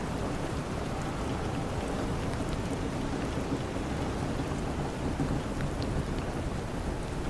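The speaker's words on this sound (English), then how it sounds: "The rain went on." Steady heavy rain falling on a boat deck in the Southern Ocean, with low rolling thunder rumbling beneath the dense, even patter throughout.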